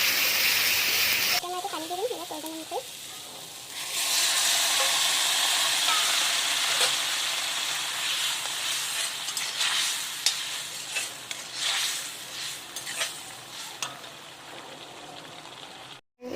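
Spices and melted tomatoes frying in a pan for an okra dish, stirred as they cook: a steady, close sizzling hiss with scraping stir strokes and a few brief tonal sounds early on.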